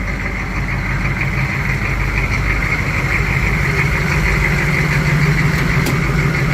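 Smooth, steady idle of a 6.5 diesel race truck engine, a deep continuous rumble heard close with electric cooling fans running, no voices over it.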